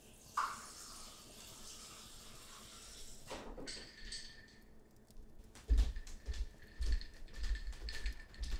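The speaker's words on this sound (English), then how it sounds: "let me get you a glass of water." Water poured into a glass, with ice already in it: a hissing, trickling pour runs for a few seconds, then soft clinks and handling knocks follow, close and quiet.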